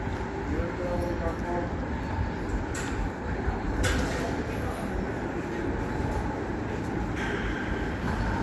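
A train arrives and rumbles steadily through a Sydney station platform, with broadband rail noise and faint voices murmuring in the background.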